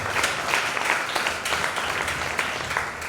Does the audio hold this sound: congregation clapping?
yes